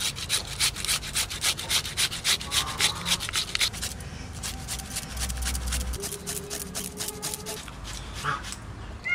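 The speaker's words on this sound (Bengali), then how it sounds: "ঘষে নিচ্ছি, এবার চটকিয়ে রসটা বার করে নেব।" Ingredients are rubbed and mashed by hand, a rhythmic run of close scrubbing strokes that pulses steadily, pauses briefly, then resumes in quicker, softer rubs.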